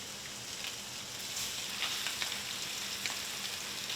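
Blackened mahi sizzles in a little oil in a pan, a continuous close crackle with small pops that grows slightly louder partway through.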